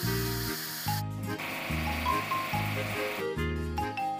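A water spray hisses steadily as a seed planting machine is washed in the Agro Trucks farming game, interrupted by short breaks and layered over a droning engine hum.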